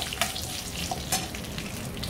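Peanuts frying in hot oil with urad dal and curry leaves for a coconut rice tempering, a steady close crackling sizzle with occasional sharp pops, with no voices.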